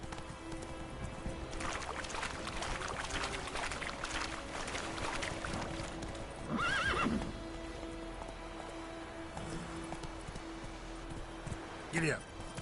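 Roach, a horse in a video game, gallops with steady clip-clop hoofbeats, letting out a couple of loud whinnies along the way, over a constant background hum with a man urging it on.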